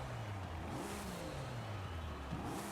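A stock V6 Acura car in Forza Horizon 5 revs its engine, a steady low drone that climbs and dips in pitch, fairly faint and alone.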